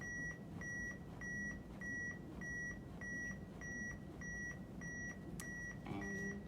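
An AED emits steady, evenly spaced electronic beeps, roughly one and a half per second, to pace CPR chest compressions on a child. The beeps continue through the whole stretch over a constant low background hum, and no one speaks.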